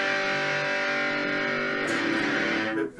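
An electric guitar played through a distortion effect holds a loud, buzzy sustained chord that rings on for a few seconds before cutting off near the end, with no talking.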